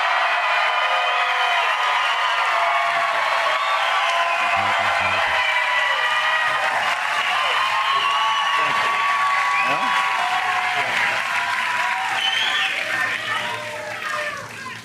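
A large crowd claps steadily and continuously, a dense sustained wash of applause that holds for about fourteen seconds before tapering slightly at the end.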